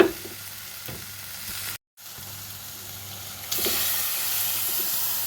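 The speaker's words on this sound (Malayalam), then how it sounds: "ഇനി ഇതിലേക്ക് നമുക്ക് വേവിച്ച് വെച്ചിരിക്കുന്ന ബീഫ് ചേർത്ത് കൊടുക്കാം" Cooked beef added to a frying pan with coconut pieces and onions, a close steady sizzle that cuts out briefly, then returns louder and hissier as the meat goes in, no voices.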